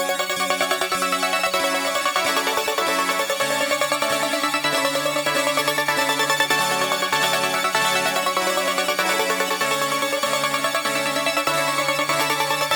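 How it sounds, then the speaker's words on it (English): Bright, layered synth melody from a Hive glass piano and brass preset plays continuously and loudly, with chiming tones over sustained brassy chords and no voices. "the first sound in this beat is from Hive. It's this JH Glass Piano and Brasses preset."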